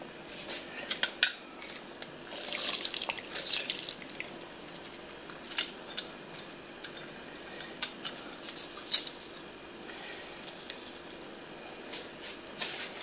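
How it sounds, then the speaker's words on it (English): Vegan borscht is stirred in a pot: soft wet sloshing and squishing with irregular metallic clinks of a utensil against the pot, close and fairly quiet, with no talking. "Give that another stir."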